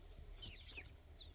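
A free-range hen clucks faintly outdoors among baby chicks, with a few soft, high chick peeps scattered through the quiet background.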